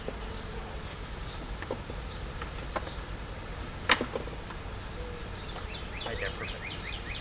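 Honeybees buzzing around city hive boxes during box stacking, a steady swarm drone underlying faint clicks and scattered higher chirps, with a sharp knock near the middle.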